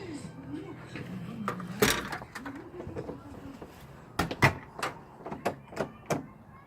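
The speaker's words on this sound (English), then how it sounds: "Well, the door just locked." A door locks with a series of sharp clicks and clunks near the end, with a pigeon cooing softly earlier among a few scattered knocks in a quiet indoor space.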